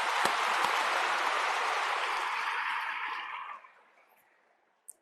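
An audience applauds at a Brahma Kumaris stage event: a loud, dense roar of clapping for about three seconds that tapers off into near silence, broken by a single late clap.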